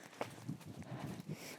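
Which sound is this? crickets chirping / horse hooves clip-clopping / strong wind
horse hooves clip-clopping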